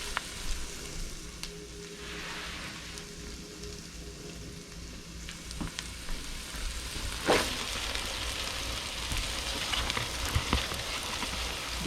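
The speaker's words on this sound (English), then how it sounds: "I just want to get this onion laid down. Get that all started cooking." Onion frying in a pan over high heat, a dense continuous sizzle up close with occasional stirring scrapes and pops, no talking.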